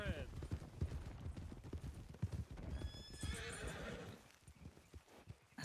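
Horse neighing over repeated clip-clopping hooves in a Red Dead Western roleplay game, the whinny rising mid-clip amid a busy, dense mix with talk underneath.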